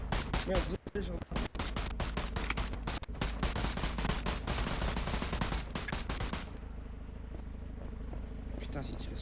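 Video game gunfire crackles in dense automatic bursts with short gaps, loud and close, then cuts off abruptly, leaving a quieter background rumble with voices mixed in.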